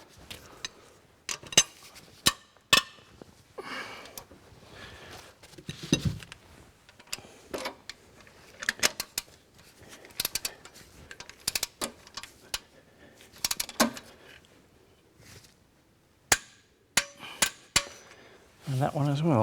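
Sharp metallic clicks and clanks of a wrench re-torquing engine cylinder head bolts, irregular isolated ratchet and tool taps spaced by quiet pauses, close and fairly crisp throughout.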